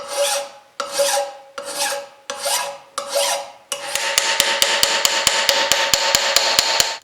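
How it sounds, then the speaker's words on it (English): Someone files rust off a motor shaft with a hand file, first with five slow, separate rasping strokes, then a fast run of short, even scraping strokes, close and clear with no talk. "I'm just going to use a file to file that off."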